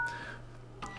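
Keypad tones sound on a Micromax Canvas 6 phone as a secret code is dialed, with two short tonal beeps close and clear over a faint hum.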